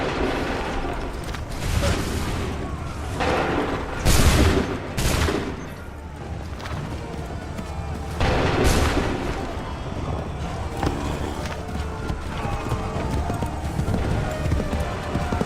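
Musket volleys from soldiers firing on command in Assassin's Creed 3 Remastered: several sharp, loud bursts of gunfire among dense battle noise, with shouted orders heard in between.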